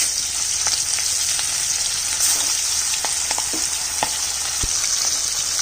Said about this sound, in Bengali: এবার মাছটা ভেজে নিচ্ছি।